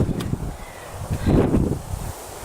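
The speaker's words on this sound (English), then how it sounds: "It's starting to get a little windy." Gusty wind during Hurricane Florence buffets the microphone outdoors, rising into a stronger rumbling gust midway with a faint rustle, no one speaking.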